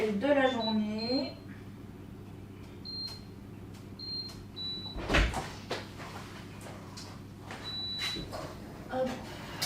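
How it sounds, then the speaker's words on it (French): A home kitchen dishwasher is opened and started: door and rack clunks, a thud midway, and several short high electronic beeps from the control panel, with a voice speaking over it. "Je vais tout de suite lancer le premier lave-vaisselle de la journée."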